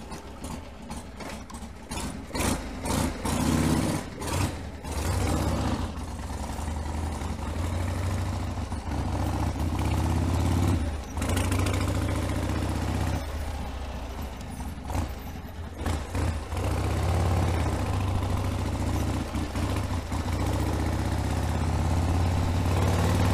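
A 1979 Harley-Davidson Ironhead Sportster motorcycle engine runs loud and close for a long stretch, with a steady, throbbing idle broken by several sharper revs.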